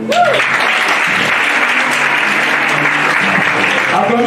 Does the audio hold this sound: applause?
yes